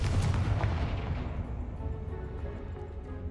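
Explosive Confringo spell cast in Hogwarts Legacy: one heavy blast that hits hard at the start, then a long rumbling decay that fades over a few seconds.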